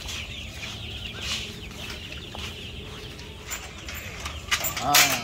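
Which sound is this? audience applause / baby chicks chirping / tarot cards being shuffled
baby chicks chirping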